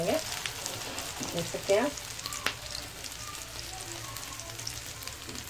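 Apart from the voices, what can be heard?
paneer cutlets frying in a pan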